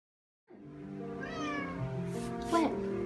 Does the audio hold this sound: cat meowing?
yes